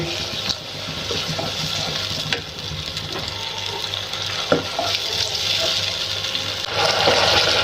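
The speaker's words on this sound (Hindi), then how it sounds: "साथ में थोड़ा सा पानी ऐड कर देंगे।" A little water goes into a sizzling pan of bhindi masala, raising a continuous watery hiss and bubbling sizzle with occasional soft clinks of stirring throughout.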